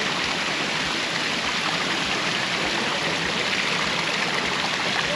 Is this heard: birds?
no